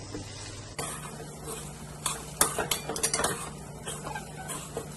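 A spoon scrapes and clinks against a pan while salt, chili powder, turmeric and sugar are mixed in, giving a cluster of quick metallic taps and scrapes, close and without talk.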